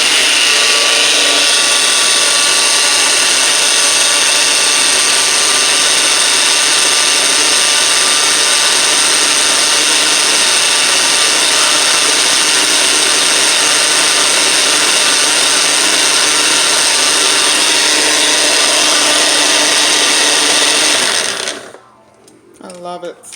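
A regular hand blender whips homemade mayonnaise made with sunflower oil. It makes a loud, continuous, close motorized whir for over twenty seconds, then cuts off, leaving faint rustling.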